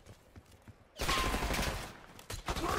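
Gunfire in Black Ops 6 on a holiday Nuketown map: faint scattered shots, then a loud sustained burst of rapid fire and explosions from about a second in, with light talk around it.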